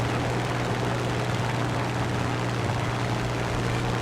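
Steady, loud propeller engine drone of a Hurricane fighter plane in War Thunder, with a constant low hum, unbroken throughout and with no voices.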